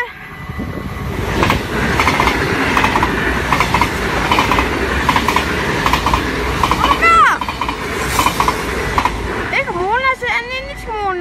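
A train rumbles past at Maasbracht with steady clattering wheels and broadband roar, a couple of brief squealing wheel tones rising near the end, and voices talking over it.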